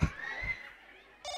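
A telephone rings briefly, with a short bright electronic trill near the end following a faint wavering tone. No one speaks.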